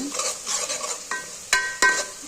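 A spoon stirs fried ingredients in a pan while cooking fish curry, scraping in a few sharp, separate strokes over a soft sizzle.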